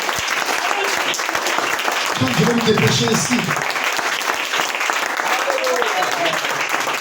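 A church congregation applauds and cheers during a service, a thick continuous roar of clapping filling the room while someone speaks over it and a few voices rise briefly.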